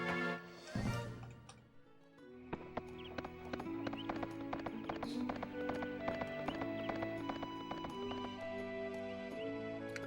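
Video game horse hooves clip-clopping in Suikoden III, a steady run of rhythmic hoof clops over game music, preceded by a brief whinny-like burst at the start.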